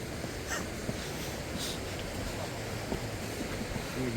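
A waterfall in Kullu roars as a steady, broad wash of rushing water, constant and fairly faint, with light wind buffeting and no voices.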